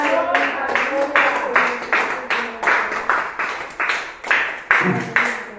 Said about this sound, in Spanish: denle un aplauso en esta noche